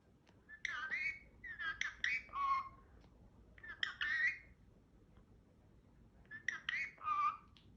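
A pet talking parrot gives four bursts of whistly, squawking chatter, each lasting about a second, separated by short pauses against a quiet background.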